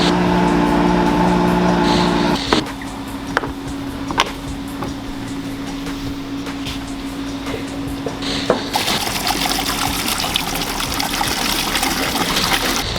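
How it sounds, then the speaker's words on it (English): A Mercedes CLS 63 with catless downpipes and a Rentec muffler, straight from the turbo back, rumbles loudly and close, then dips to a lower burble before a sharp burst of harsh, raspy roar to the end. "It's running a Rentec muffler, so it has a very unique sound to it"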